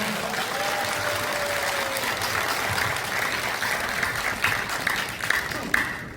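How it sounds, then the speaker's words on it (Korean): Steady applause from an audience at a Korean political talk concert, encouraging a National Assembly member, filling the room continuously with a few louder claps near the end. "박수, 응원 박수 부탁드립니다."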